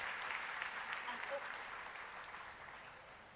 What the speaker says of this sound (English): A big round of applause for all the 3 rank holders of UPSC